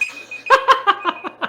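Video game alarm in Gangland: a bright electronic tone sounding in a quick, pulsing pattern of about six beeps, loud and close, with no talk over it.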